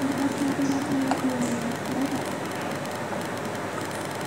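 Jakarta electric MRT train running on 1500-volt DC through a pantograph, heard as a continuous broadband rumble with a faint electric whine early on, steady and moderately loud with no speech.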